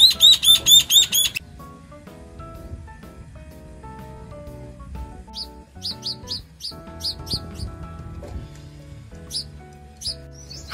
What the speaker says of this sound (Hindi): Can you see that? वो पक्षी पानी पी रहा है उस पर बैठ के.